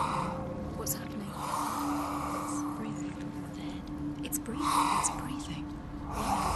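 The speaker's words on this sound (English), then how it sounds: "It's breathing." Heavy, rhythmic breathing from the Hellblade video game, a close, hushed series of breaths swelling and fading over a low droning ambience, with faint whispery textures.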